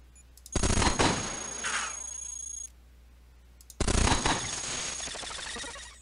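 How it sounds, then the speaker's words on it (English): Guns firing in the robot roguelike game Cogmind, two long loud bursts of rapid synthetic gunfire separated by a short pause, each bright burst trailing into a ringing electronic tail with no talk over it. "Oh, I didn't know my guns would shoot through walls."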